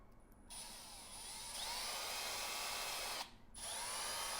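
An electric drill bores a hole in the core of a part on a 2022 Triumph Street Triple RS during a first service in a garage, a high steady whine in two bursts with a brief pause between, no talking.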